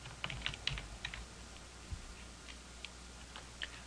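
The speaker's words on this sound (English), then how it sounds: "I'll use the keyboard to correct the spelling." Dictation software user corrects a doctor's name spelling on a computer keyboard: soft, scattered keystrokes tapping irregularly, fairly quiet and close, with no talking.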